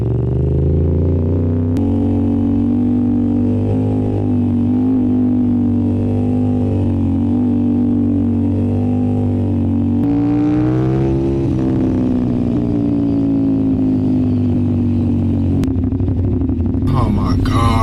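Motorcycle fitted with a Gabro CRT exhaust revving and accelerating in first gear, a loud, close engine drone rising and falling smoothly through several throttle pulls.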